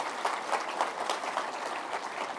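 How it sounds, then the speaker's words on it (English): An audience applauds after a business presentation, producing a steady, even wash of many hands clapping at moderate distance that holds without a break and without talk over it. "Let's give her a round of applause."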